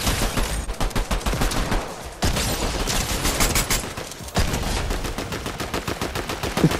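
Rapid bursts of gunfire in the Fortnite battle royale video game, loud and close, with dense repeated shots in several volleys separated by brief pauses.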